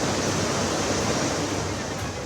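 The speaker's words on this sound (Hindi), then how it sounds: "सब कुछ बहाकर ले गई ब्यास नदी अपना रौद्र रूप दिखा रही है।" The flooding Beas river rushes past near a toll plaza on the Chandigarh–Leh National Highway, a dense, loud, steady roar of water with no breaks.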